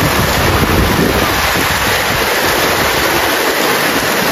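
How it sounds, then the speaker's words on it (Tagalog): Heavy typhoon rain and gusting wind rage outside a house, a dense unbroken hiss and roar that stays loud and steady from start to finish. "Binagyo na po."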